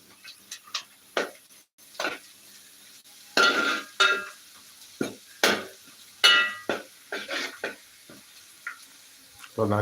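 Food roasting in a hot pan while being stirred, with a run of scraping, sizzling strokes of spatula against metal that come in uneven bursts, close by.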